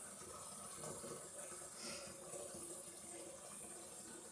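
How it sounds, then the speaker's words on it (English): Water runs steadily from a tap into a plastic tub, filling it toward a three-gallon line for a homemade strawberry and watermelon wine batch; a faint, even hiss and splash continue throughout with no talk. "You can go on and fill it up to the 3 gallon line."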